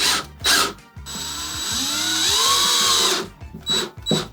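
A power drill with a self-centering bit bores into the holes of a drawer slider, revving up in a steady whine that rises and settles over a couple of seconds, with short bursts of drilling before and after.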